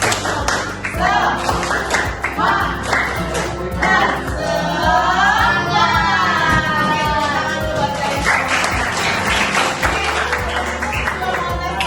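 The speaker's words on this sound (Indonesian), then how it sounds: "1, 2, 3. Tepuk semangat." A school class claps together in a quick, patterned rhythm, with music playing loudly underneath and some voices mixed in.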